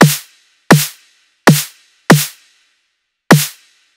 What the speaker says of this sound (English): I'm going to show you guys how to make your very own snare sample in any DAW